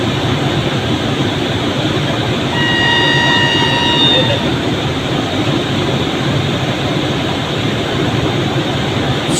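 Train noise at an Indian railway station crossing as an oncoming train approaches: a steady, loud rumble with a brief high metallic squeal partway through, while someone talks over it.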